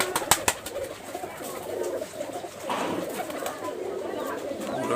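A female Rajshahi highflyer pigeon with red feet coos softly at close range, with a few sharp clicks and taps early on.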